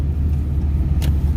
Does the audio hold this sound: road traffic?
yes